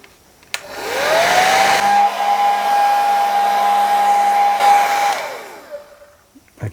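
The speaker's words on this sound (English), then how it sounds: "I'm going to speed the whole thing up with a hair dryer" A hair dryer drying a layer of acetone: it switches on with a rising whine, holds a loud steady blowing hum for a few seconds, then winds down and cuts off.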